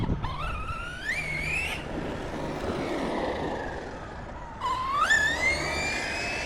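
A Redcat Kaiju EXT RC car with a 16-tooth pinion speeds past, its electric motor whining upward in pitch in two rising runs separated by a quieter stretch of wind and rolling noise.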